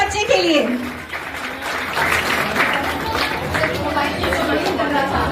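Loud, sustained applause from a big crowd at a school foundation day celebration, dense clapping filling the space with cheering and chatter mixed in throughout.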